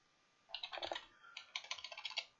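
A computer keyboard is typed on up close in two quick bursts of rapid, crisp keystrokes separated by a brief pause, with no talking.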